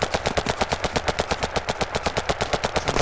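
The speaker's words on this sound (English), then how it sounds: "Some shooting going on from across the road." Sustained rapid automatic gunfire rattles in the video game Battlerush 2, a fast, even stream of sharp bursts, steady and fairly loud with no voices.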